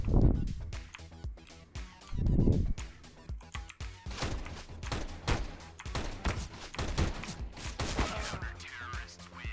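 Rapid gunfire in the video game CS:GO, dense bursts of sharp shots and thuds crackling nearly nonstop, with a few heavier booms near the start.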